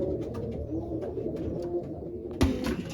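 Racing pigeons coo continuously inside a loft during the racing season, a steady layered murmur of soft repeated calls close by, with a brief sharper clatter near the end.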